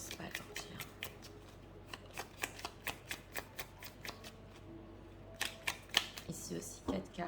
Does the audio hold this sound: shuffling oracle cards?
yes